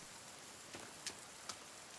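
Steady rain hiss from The Forest survival game, a soft continuous wash with a few faint isolated drip ticks, low and even throughout with no voices.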